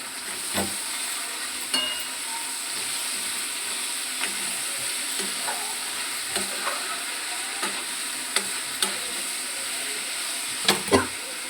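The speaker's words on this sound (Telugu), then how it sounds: "ఇది ఆయిల్లో బాగా ఫ్రై అయింది." Gongura (sorrel) leaves frying in oil in a home kitchen pan, a steady soft sizzle with occasional sharp clicks and scrapes from stirring, alone without talk.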